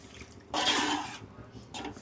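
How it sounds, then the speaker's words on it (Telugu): A glass of water is poured into a pan of prawn curry on the stove in one short splashing gush, followed by a softer brief splash, close by and without any talking. "ఇప్పుడు ఒక గ్లాస్ వాటర్ పోసుకుందాం"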